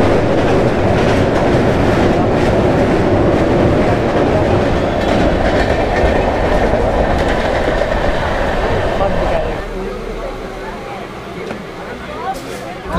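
A local train on the Howrah to Digha line rumbles steadily along, a loud, continuous roar with rail clatter that drops to a quieter idle in the last few seconds; speech tagged faintly beneath.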